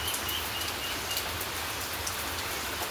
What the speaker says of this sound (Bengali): 24 ঘন্টা শুধু বৃষ্টি।